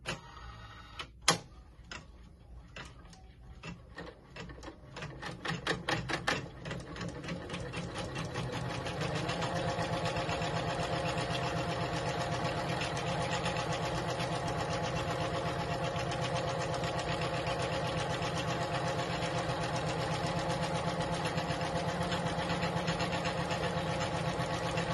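A Janome embroidery machine stitching an applique placement stitch, starting with a few separate clicks and ticks before settling into a steady, fast, continuous mechanical whir that runs on unbroken, close and fairly loud.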